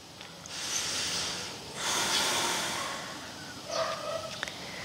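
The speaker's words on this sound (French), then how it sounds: "Respiration normale." Calm, steady breathing during a morning yoga session: slow, airy inhales and exhales rise and fall in soft waves, with no talking.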